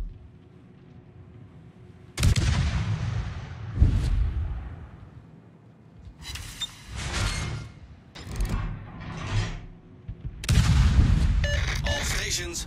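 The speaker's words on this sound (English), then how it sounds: "All stations, concentrate fire on the target." Warship guns fire on a target in a naval battle video game, with heavy booms and rumbling salvos arriving in several separate bursts, loud against a quieter background hum.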